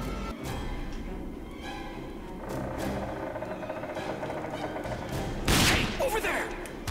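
A gunfire headshot in the first-person shooter Rage on PC, with scattered shots over a rumbling game background and a sharp, loud burst of fire near the end.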